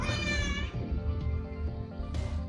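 A house cat gives a loud, close, drawn-out meow that fades within a second, followed by quieter shuffling and another short cry near the end.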